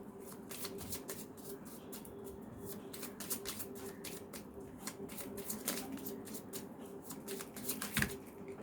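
Tarot cards shuffled by hand in a steady run of crisp riffling snaps and slides, close and fairly quiet, with no talk over it.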